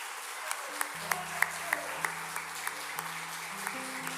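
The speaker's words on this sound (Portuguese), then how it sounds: "Vamos dar uma salva de palmas, irmão." Church congregation applauding after a call for a round of applause, scattered claps that are fairly faint and distant, heard over a sustained organ or keyboard chord.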